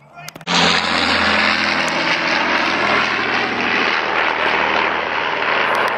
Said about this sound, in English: but that looks like quite a different plane